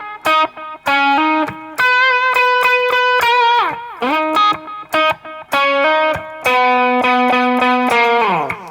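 Distorted electric guitar plays the second harmony part of a song, sustained notes and quick runs with bends and slides, clipped by short silences, loud and close, with no talk.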